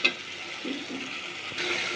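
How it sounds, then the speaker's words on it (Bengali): Spice paste fries in oil while being stirred, a close, continuous sizzle with soft scraping movement, brightening briefly near the end. "এরপর মশলাটাকে আমি ভালো করে একটু ভেজে নিব"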